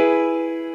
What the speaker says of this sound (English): there's a nice triad